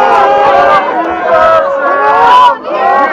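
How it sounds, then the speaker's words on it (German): A loud, close crowd at a wrestling show shouts and calls out in overlapping voices, a dense burst of yelling that swells and dips over a few seconds. "aufrufen vom Publikum"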